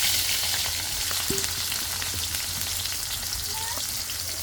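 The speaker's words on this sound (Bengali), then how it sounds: "এখন হলো মরিচ পেঁয়াজ মরিচ দিয়ে দিলাম" Onions and chilies hit hot oil after cumin, giving a loud, dense, continuous sizzle close by, with a few faint clinks and no speech.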